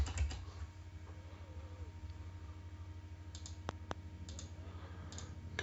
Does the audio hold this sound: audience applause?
no